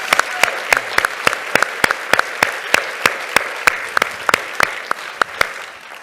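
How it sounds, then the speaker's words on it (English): Steady applause from a small audience at a talk on financial literacy in education, with evenly spaced sharp claps standing out over a dense bed of hand-clapping, continuing at even strength throughout. "let's give a big round of applause"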